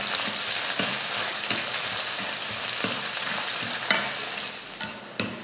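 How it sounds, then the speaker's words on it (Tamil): Onion, cinnamon, chillies and curry leaves sauté in a pan. A continuous close sizzle runs through it, broken by regular scraping stir strokes about every second, with no speech. "ஒரு பெரிய வெங்காயத்தை நீளவாக்கில் கட் பண்ணியிருக்கேன், அதையும் சேர்த்துக்கலாம். சேர்த்து இதை நல்லா வதக்கிடுவோம்."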